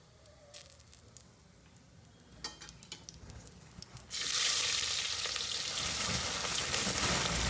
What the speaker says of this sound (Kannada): ಚಿಲ್ಲಿ ಆ್ಯಂಡ್ ಆನಿಯನ್ ಹಾಕ್ಕೊಂಡು ಒಂದು ಸ್ವಲ್ಪ ಗೋಲ್ಡನ್ ಬ್ರೌನ್ ಆಗೋ ತನಕ ಫ್ರೈ ಮಾಡಿ.